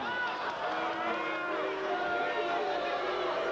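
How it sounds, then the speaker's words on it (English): A fight crowd at a 1992 San Diego championship bout murmurs and jeers in disapproval at a throw, a dense continuous roar of many voices, steady and loud throughout. "The crowd not liking the throwing because it's something they haven't seen before."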